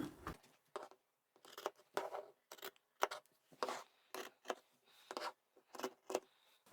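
Scissors snipping through fabric while cutting out a square boxed corner for a sewn toiletry bag, a quiet run of about a dozen crisp, separate cuts in a steady rhythm with short pauses between, close by and alone.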